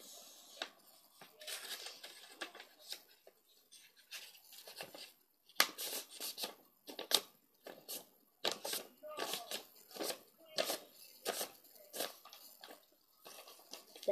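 Scissors cut through folded paper in a run of short, crisp snips at an uneven pace, close and fairly quiet, with faint voices in the background.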